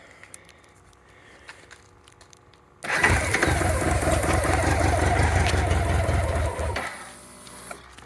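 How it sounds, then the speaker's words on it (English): A BMW K100 motorcycle engine, fire-damaged and previously seized, cranks and catches, then runs loud and steady for about four seconds before dropping to a quieter idle. "And then I can fire this up and kick it out."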